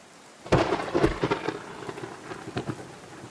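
Thunderstorm in the video game Outbound: a sudden close rumbling thunder crack rolls out over steady rain, then fades into softer patter with a few scattered drops, heard alone.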